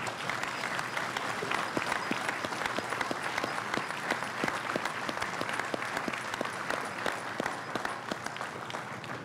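An audience at a Navy decommissioning ceremony for the aircraft carrier Enterprise gives a sustained round of applause, a steady, dense wash of many hands clapping at even loudness throughout, with no talking over it.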